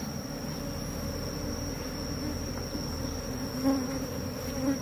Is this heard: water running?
no